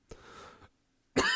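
A single harsh cough followed by a rough throat-clearing rasp, then a short pause and a second loud, sharp cough burst close to the microphone.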